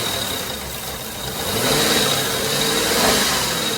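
A car engine runs with an uneven, slightly stumbling idle during a catalytic converter cleaning, a steady close rumble that swells a little partway through, with no talk.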